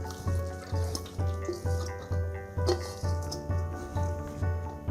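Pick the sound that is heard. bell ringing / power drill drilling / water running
water running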